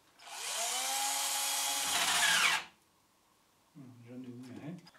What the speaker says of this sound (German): ob der Schrauber auch wirklich genug Saft hat, um 8 oder 10 mm Löcher zu bohren